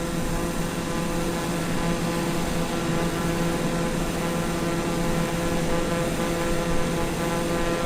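Steady, droning airplane engine in a flight simulator game, loud and continuous with a constant pitch and no talking.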